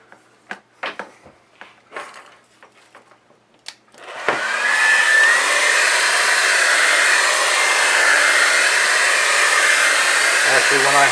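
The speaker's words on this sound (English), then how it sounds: "Hair dryer on medium to high heat." After a few clicks and handling noises, a hair dryer on medium-high heat switches on and blows with a loud, steady whoosh for the rest of the clip, drying a photopolymer plate.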